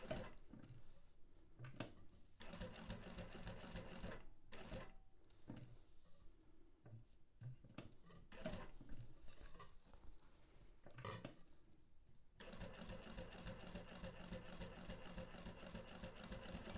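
A sewing machine with a narrow foot stitches a zipper pocket with a window facing, humming faintly in short stop-start runs before settling into a longer steady stretch of rapid stitching.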